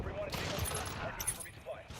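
Gunfire in a Call of Duty match, with a steady stream of shots running throughout at moderate loudness and one sharper burst near the middle, under a busy game mix.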